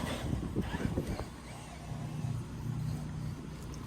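A Traxxas TRX6 RC truck drives through grass, its electric motor giving a faint, steady buzzing whine mixed with rustle and wind noise.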